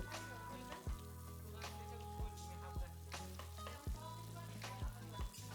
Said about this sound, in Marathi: तेल छान गरम झालेलं आहे म्हणून सुरुवातीला आपण त्याच्यामध्ये थोडीशी तोंडली घातलेली आहे